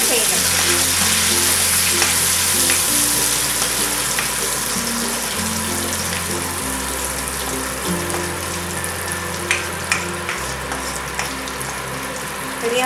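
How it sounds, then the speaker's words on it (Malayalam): Curry leaves fry in hot oil in a kadai over a medium-low flame, the start of a Kerala-style fish dish. A dense, continuous sizzle runs close throughout, with a faint steady hum beneath it. "ഞാൻ ആദ്യം കരിവേപ്പില നന്നാക്കി ആഡ് ചെയ്തു"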